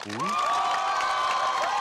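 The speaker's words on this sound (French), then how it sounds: "Applaudissez pour eux." A studio audience of university students at a televised film show bursts into applause mixed with high cheering and whoops, loud and sustained throughout.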